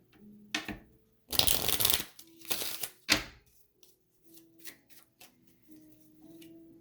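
A deck of angel cards is shuffled close by, giving a few quick riffling bursts of paper flutter and snaps, then softer card handling with faint taps.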